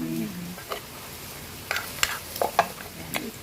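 Leftover food being reheated to soften it in a hot pan, with a steady background sizzle and scattered scraping stirs of a utensil against the pan, close and moderately loud.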